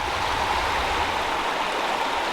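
A small brook runs steadily over rocks in the woods, a continuous close, even rush and gurgle with no voices.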